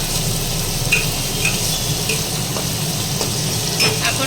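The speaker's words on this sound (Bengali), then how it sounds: "এখন পেঁয়াজটা লাল লাল করে ভাজা হবে" Onion fries in a home kitchen pan toward browning for a chicken dish, giving a steady, fairly loud hiss dotted with occasional light scraping clicks from stirring.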